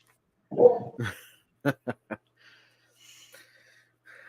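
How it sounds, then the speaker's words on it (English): A dog barks in the background, one deeper bark followed by three quick short yips, clear against near silence, with faint room noise afterward. "your dog is barking"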